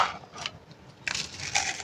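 Cream biscuits snapped by hand into pieces, a few close crisp crunching cracks in short bursts, with no one talking.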